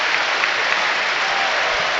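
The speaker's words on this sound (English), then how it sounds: "The applause you can hear is for the likes of Igor, Julio Enciso and Yassin Ayari." A stadium crowd at a Brighton & Hove Albion versus Rayo Vallecano football friendly claps steadily, a dense, loud wash of applause that holds evenly throughout with no talk over it.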